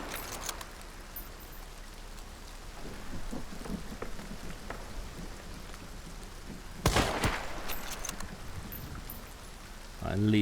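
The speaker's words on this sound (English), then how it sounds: "the exact time that I decided to do this is the exact time it starts raining" Steady rain hisses in the game Hunt Showdown, with a loud thunder crack and rumble partway through and a few sharp impacts, the storm sitting at a moderate, even level throughout.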